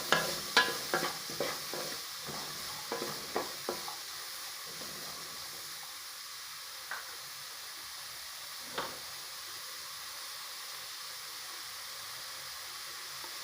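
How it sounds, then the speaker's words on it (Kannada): Onions frying in a pan for shavige bath, with a quiet sizzle under a run of light stirring taps in the first few seconds, then sparse scrapes over a soft, steady hiss. "ಈರುಳ್ಳಿ, ಸ್ವಲ್ಪ ಫ್ರೈ ಮಾಡಬೇಕು, ಸ್ವಲ್ಪ ಹೊತ್ತು ಫ್ರೈ ಮಾಡಬೇಕು"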